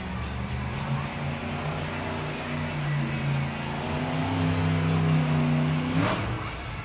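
The Jurassic Attack monster truck revs its engine in an indoor arena at a Monster Jam event, a loud, sustained roar that swells and climbs in pitch before cutting off sharply near the end.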